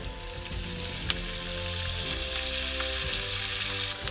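Asparagus frying in a pan, a steady close sizzle with a few light clicks and stirring taps, no voices.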